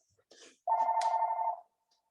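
A single telephone ring sounds during a presentation, a clear electronic tone close by lasting about a second, with brief voice-like sounds just before it.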